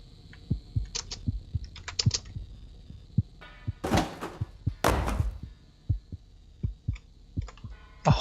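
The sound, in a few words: heartbeat in the video game The Cat Lady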